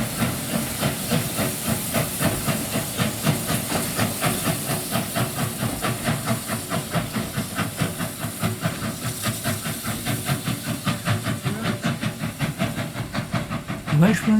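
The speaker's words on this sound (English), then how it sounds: "The steam escaping from the locomotive is from the steam generator and not from the safety valves" Loud hissing steam from a steam locomotive's steam generator on the Welshpool and Llanfair Railway, with a regular pulsing rhythm close by, going steadily throughout.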